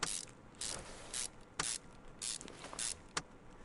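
Car Mechanic Simulator 2021 video game sound of suspension parts being screwed and unscrewed: quick repeated ratcheting bursts, about six short mechanical whirs spaced evenly over a steady faint hiss, no voices.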